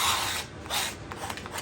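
A wire brush scraping built-up crud off an old Deckel FP1 clone Alexander Master Toolmaker milling machine: short, harsh raspy strokes, close and fairly loud, in uneven bursts.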